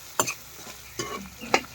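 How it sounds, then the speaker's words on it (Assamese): Pork frying with tomato in a pan, quiet sizzling broken by three distinct stirring scrapes spaced evenly, close by. "বিলাহীৰ লগত গাহৰি মাংসটো ভাজি আছোঁ"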